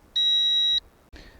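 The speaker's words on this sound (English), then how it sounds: "You heard that loud beep there. It's picked up enough satellites for good GPS lock." A single loud, high electronic beep from a folding quadcopter drone signalling GPS lock, lasting under a second, followed by a short burst of soft noise.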